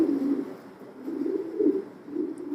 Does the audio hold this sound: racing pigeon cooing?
yes